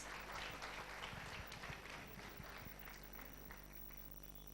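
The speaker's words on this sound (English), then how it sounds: "Another round of applause." Audience at a school day function claps after a teachers' dance performance, a steady fairly quiet patter of many hands over low room hum, with no voices on top.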